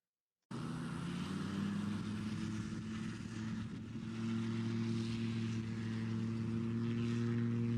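An MTO gyrocopter takes off in the UK with its nose held very high, its engine and rotor giving a loud, steady drone with low tonal hum that holds for several seconds with no talk.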